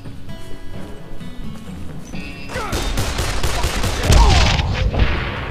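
Rapid bursts of gunfire in the game Call of Juarez: The Cartel crackle and boom, building louder toward the end, with faint background chatter beneath.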